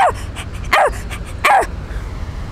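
A human voice imitates a drunk puppy barking, three sloppy, wavering yelps spaced evenly apart, close and fairly loud with quiet gaps between.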